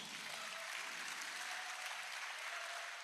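An audience at a university matriculation ceremony claps steadily for the whole stretch. The applause is a dense, even wash, heard at a distance and fairly faint.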